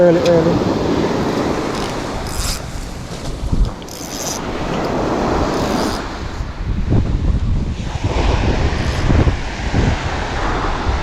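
Sea breeze buffets the microphone on open water during a morning fishing trip off Jamaica, a steady rumbling wind roar with gusts and light wave wash, with no voices.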